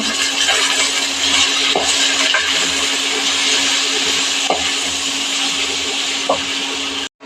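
Taro stolons with salt, turmeric and chili powder sizzle in a pan with fried shrimp. Occasional sharp scraping clicks from stirring break through the loud, steady frying hiss until it stops abruptly.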